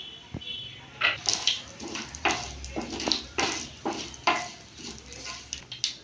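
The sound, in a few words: black mustard seeds and dried chilli tempering in hot oil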